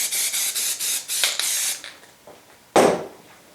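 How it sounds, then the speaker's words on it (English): Spray tack adhesive hisses onto a screen printing platen in a series of short bursts, then a louder, closer burst follows after a pause. "Let's put a little more spray tack on there."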